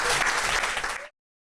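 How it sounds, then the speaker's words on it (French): A church congregation claps for the Lord during a service, a dense burst of applause that carries on loudly for about a second and then cuts off abruptly. "Applaudissez bien fort le Seigneur."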